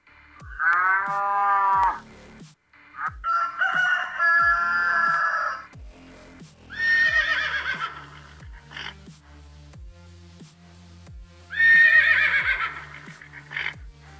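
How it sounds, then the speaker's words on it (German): Farm animal sounds play from a phone sound app in a stable: a horse whinnies in several separate bursts alongside cattle-like lowing, each call clear and loud over a quiet background with faint low clicks. "die Geräusche-App geöffnet habe und ein paar Bauernhoftiergeräusche abgespielt habe"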